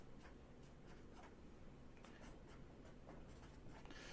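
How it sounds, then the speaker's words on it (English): Pen or pencil writing by hand on paper, a quiet, steady scratching with short strokes repeating throughout, faint and close with no talk. "I'm going to write this down."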